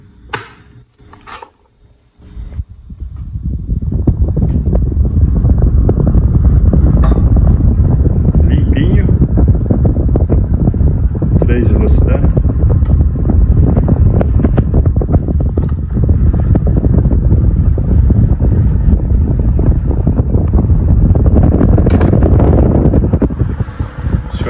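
A restored Faet 1048 electric fan starts up and runs steadily for about twenty seconds, a loud, close, even whooshing drone with brief voices before it spins up.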